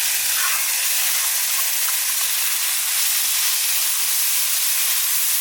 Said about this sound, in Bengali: এবার রান্না করবো ঘি দিয়ে। ঘির ভিতর দিয়ে দেবো শুকনো লঙ্কা